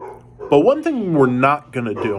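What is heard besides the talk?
dog barking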